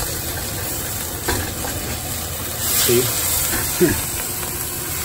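Steam hisses from a pot of French onion soup as the stock cooks down, a steady broadband wash under a speaking voice, with a few faint stirring clinks.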